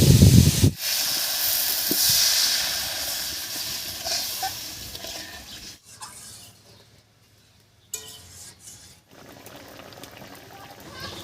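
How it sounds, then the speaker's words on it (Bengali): Water is poured into a pan of fried spices and raw papaya. A sharp splash sets off a loud, broad hiss that fades over several seconds into quieter kitchen sounds, with brief low noise near the end. "পেঁপের সঙ্গে মশলা খুব ভালো করে কষে গেছে এবারে জল দিই"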